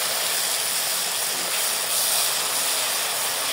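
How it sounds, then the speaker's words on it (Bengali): Spice paste masala for a chicken roast frying slowly in oil over a low flame, giving a steady, close, broadband sizzling hiss that holds even throughout with no talk. "এটাকে ধীরে ধীরে লো ফ্লেমে মশলাটা কষাতে হয়।"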